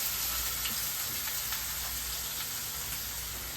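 Steak and onions frying in a hot pan, giving a steady, dense sizzle that holds at an even level throughout with no voices.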